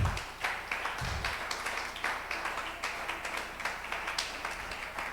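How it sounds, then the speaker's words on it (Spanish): A church congregation applauding, steady dense clapping that holds evenly throughout at moderate loudness, with no clear talk over it. "Dale un aplauso al Cristo de la gloria"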